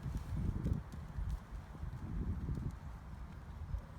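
A horse trots during a riding lesson in an arena, its hooves giving a steady, muffled low thudding rhythm with faint rustling and no voices, the footfalls continuous and moderately close.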